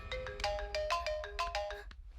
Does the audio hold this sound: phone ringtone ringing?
yes